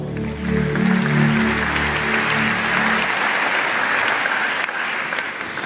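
A church congregation applauding during a French-language service, with dense sustained clapping from many people, loud and steady throughout, alongside a held musical tone early on.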